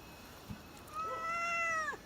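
A cat met on a trip to waterfalls in Bali gives a single short, faint meow that rises and then falls, heard close by against quiet surroundings.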